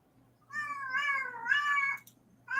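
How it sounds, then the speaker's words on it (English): A loud cat meows twice in close succession, a long drawn-out wail followed by a short start of another, over faint low background hum with no talking. "The loudest cat."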